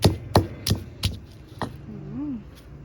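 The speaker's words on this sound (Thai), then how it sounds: "โขลกให้ละเอียดเลยค่ะตำให้ละเอียด" Red chilies pounded in a mortar for a Thai mushroom chili paste, five steady thuds at an even pace, close and fairly loud, followed by a brief spoken voice.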